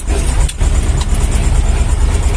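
A T-25 tractor engine drones loudly and steadily while hauling a trailer loaded with corn, a close, continuous mechanical rumble with no pauses.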